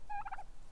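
A recovering hen turkey on a homestead gives a single short, warbling gobble, close and clear over quiet background.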